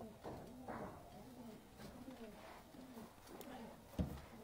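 Breeder pigeon pairs coo softly in a loft, low repeating throaty calls at an easy rhythm, faint and somewhat distant, with a brief knock near the end.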